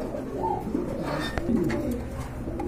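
Pigeons at a pigeon seller's give soft, low cooing calls over a background murmur, close by and gentle, with a faint click or two in between.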